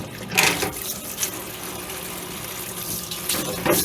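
A parts washer running while a restored Corley sawmill file guide is cleaned, with water spraying and splashing in bursts over a steady rushing wash, fairly loud and close.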